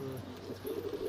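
Pigeons coo at a loft where green and red flying pigeons are kept, a low throaty burble rolling on steadily at moderate level with faint background noise.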